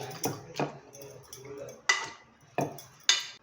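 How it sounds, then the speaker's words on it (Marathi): Repeated metallic clanks and soft thuds of a pav bhaji masher mashing cooked bottle gourd in a pot, about six uneven strokes, close by with no talking. "पावभाजी मॅशर असतं त्याच्याने मॅश करून घ्यायचं आहे"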